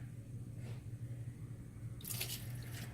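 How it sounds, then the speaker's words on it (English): Half a cup of water poured into a flour batter with garlic, salt and pepper for buffalo cauliflower: a faint room hum, then a short splashy pour near the end. "So now we will add the water."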